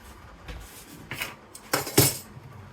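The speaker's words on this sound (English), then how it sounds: "I will grab a lid out of the boiling water." A few sharp metallic clinks and clatters, irregular and close, as a metal canning jar lid is lifted from boiling water, with no talking.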